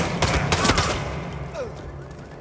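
Shots ring out in a VR hitman video game, a quick burst of several sharp gunfire reports early on, then tapering into a busy, noisy background.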